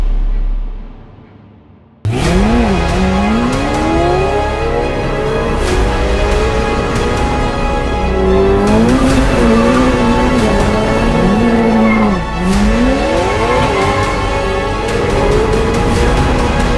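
A Ferrari F8 Tributo with a Novitec exhaust starts up after a short near-silent lead-in, then rises and falls through several loud revving sweeps while driving. No clear tire squeal stands out.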